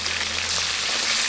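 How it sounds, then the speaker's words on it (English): Fish fries in a pan in a Zanzibar kitchen, a dense, steady sizzle that stays loud and close for a brief moment with no voices. "Now the fish was frying on the pan"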